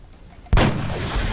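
A sniper rifle headshot in XCOM Enemy Within, a single loud, booming gunshot that cuts in sharply and rolls into a sustained rumbling echo.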